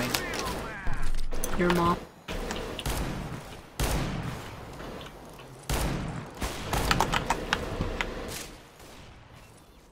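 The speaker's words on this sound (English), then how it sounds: "Who's shooting at me?" Video game gunfire crackles in rapid bursts and single shots, loud and close, with repeated volleys and pauses through the stretch while players talk over it.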